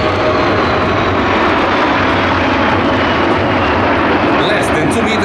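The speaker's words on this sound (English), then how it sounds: "don't miss the chance to take a picture of our Mike Charlie 39 tricolor belly during this low-speed Schneider tour with Aerobatic extended." Frecce Tricolori MB-339 jets roar loudly and continuously overhead in a low-speed formation aerobatic pass at an airshow, a dense, sustained engine wash with a commentator talking over it.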